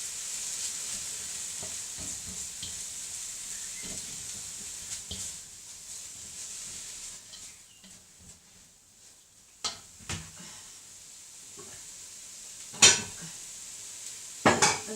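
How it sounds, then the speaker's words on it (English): Garlic and carrots sizzle steadily in a frying pan, with scattered clinks and scrapes of a utensil stirring against the pan; a few sharper knocks stand out near the end. "So I'm going to put one clove of garlic in with the carrots. Give that a bit of a stir."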